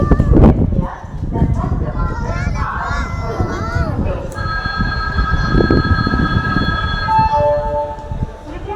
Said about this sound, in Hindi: सामने की लाइन पे आ रही थी ट्रेन, जिसका आवाज़ बहुत ज़्यादा आ रहा।